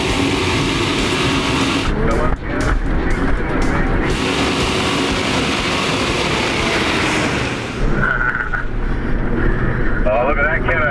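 A Toyota Hilux engine revs hard as it ploughs through a muddy track in Tasmania, producing a loud, sustained roar with wind buffeting the microphone throughout.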